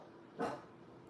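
A puppy gives a single short, soft bark-like warning yelp, brief and fairly faint against a quiet background.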